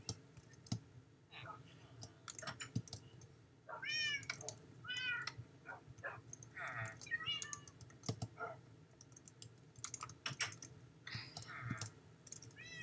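Short meows from a cat in the Minecraft video game, scattered over steady keyboard and mouse clicking, fairly quiet.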